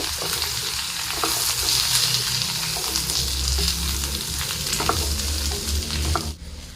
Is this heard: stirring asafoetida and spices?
yes